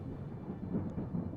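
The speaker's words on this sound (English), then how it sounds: "You hear the crackle of thunder above" Thunder crackles overhead in an audio drama amid heavy rainfall, a low, steady rumble holding at moderate level throughout with slight swells, no voices.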